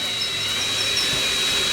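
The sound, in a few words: drilling out snapped exhaust studs with a drill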